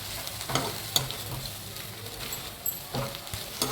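A spoon lightly stirs roasted sambar spices and coriander in a pan after the stove is turned off, making soft scrapes and faint crackling frying sounds in a few quiet strokes, with no voices.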